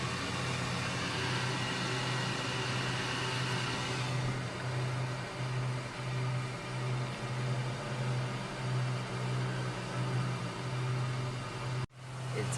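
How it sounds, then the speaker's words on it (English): The blower on a wood gas truck runs steadily with a constant broadband whoosh and a low droning hum, loud and unbroken, cutting off briefly near the end. "Blower's still running."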